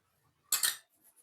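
A spoon clinks and scrapes while scooping the carrot filling for carrot kozhukattai, a short bright metallic burst with a couple of softer taps after it, close and alone.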